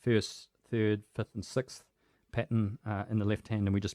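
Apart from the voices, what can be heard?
No distinct noise like a dog, phone or traffic.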